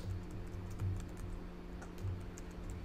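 Computer keyboard typing in a quiet room, a few soft keystrokes and short bursts of taps over a steady low electrical hum, no voices.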